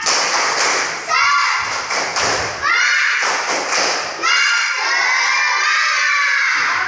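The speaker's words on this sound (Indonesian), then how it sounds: "tepuk semangat" Schoolchildren in a morning classroom chant a rhythmic 'tepuk semangat' cheer, loud group voices punctuated by bursts of synchronized clapping and thumps in repeating phrases.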